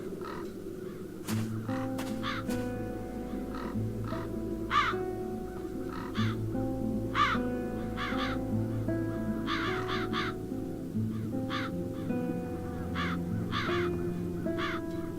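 Crows caw in the video game The Dark Eye: Chains of Satinav. Repeated harsh calls at an uneven rhythm sound over a bleak, sustained musical drone, with no speech.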